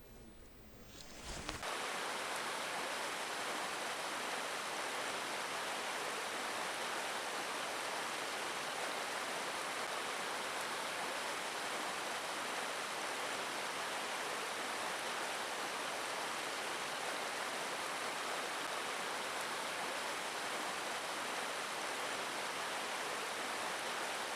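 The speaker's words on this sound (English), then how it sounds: "So we're right up in Goredale Scar now, right underneath the waterfall" Winter waterfall at Goredale Scar near Malham, heard from right beneath it: a loud, steady, unbroken roar of falling water filling the whole clip after a brief quieter opening.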